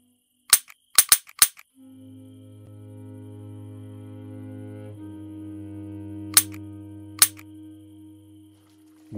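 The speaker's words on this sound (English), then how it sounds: "Let's try to shoot this flare gun." A flare gun fired in the Roblox game Plane Crazy gives several sharp, close cracks in quick succession, then a steady low hum with two more isolated pops later.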